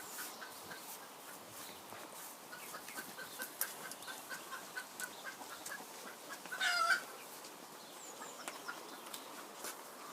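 Hens clucking and murmuring inside a small converted henhouse where a hen is brooding eggs, soft continuous fowl chatter with a brief louder squawk midway.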